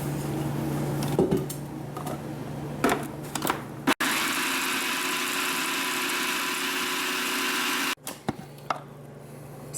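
Blender pureeing fresh tomatoes with skins and seeds, fresh basil and oregano, a loud steady whirring motor that runs in bursts with short pauses between.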